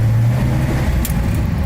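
A 1956 Chevy being driven after a shift into first gear, its engine a steady, loud low rumble throughout with a brief hum that fades early on, close and without any voices.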